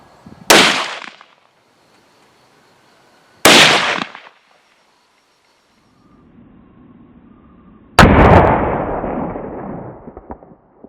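Mosin Nagant rifle fired outdoors while sighting in a scope on an ATI mount: three loud, sharp gunshots spaced a few seconds apart, the last with a long rolling echo and decay.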